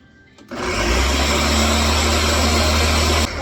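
A kitchen blender about five years old switches on abruptly and runs as a loud, steady motor whine for about three seconds before cutting off. No one speaks.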